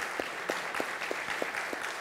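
Sparse applause from a church congregation during a Sunday service, with a few distinct claps standing out at a steady rhythm over a soft bed of scattered clapping, moderately quiet and without talk.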